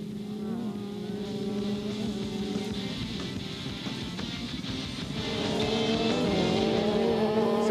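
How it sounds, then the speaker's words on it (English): Several 80cc mini bike motorcycles, including a Kawasaki, a Suzuki and a Honda, race on ice at LaPorte in 1994, their engines buzzing steadily at mid distance and swelling louder toward the end. "These are 80cc motorcycles, or mini bikes they call them"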